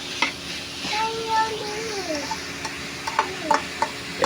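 Ground pork frying in a pan and being stirred to break it apart, a steady sizzle with occasional scraping and tapping of the utensil, while faint voices and someone talk in the background.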